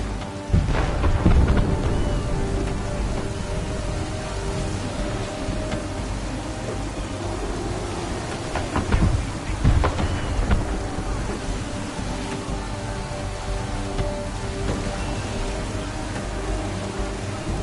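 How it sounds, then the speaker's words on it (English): A thunderstorm with rain rages at sea aboard a sailing ship in the video game Assassin's Creed 3: steady heavy rain hisses throughout, and deep thunder rumbles roll in near the start and again midway. "There's a storm coming, Captain. Feels like a big one."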